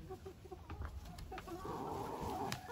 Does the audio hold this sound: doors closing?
no